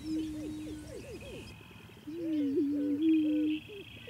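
Prairie chickens calling at sunrise on restored grassland in Iowa, heard as a series of hollow, warbling hoots, first a quick run of short notes, then a longer sustained moaning call, fairly close over quiet background.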